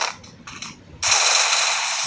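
Video game gunfire: a few quick muffled shots spaced apart, then a loud, continuous burst of automatic fire that holds to the end.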